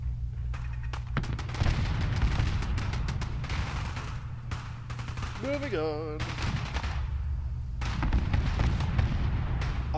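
Fallout 4 Nuka World gameplay with explosions and rapid gunfire crackling through the whole stretch over a low rumble, a warbling electronic tone rising midway, and someone briefly speaking.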